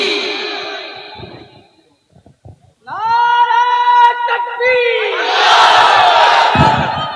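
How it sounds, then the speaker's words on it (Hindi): At a religious gathering, a crowd roars back in unison to a slogan call, a loud chanted group shout first, then after a brief lull a lead voice calls out and a massive echoing crowd response swells. "इसी तरह से बुलंद आवाज से नारे का जवाब दें"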